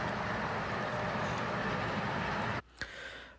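A BNSF freight train rumbles past with a broad, steady roar of rolling wagons that cuts off abruptly near the end, leaving a quieter tail with a brief knock.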